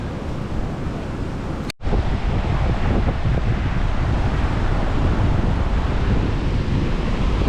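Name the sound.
strong ocean waves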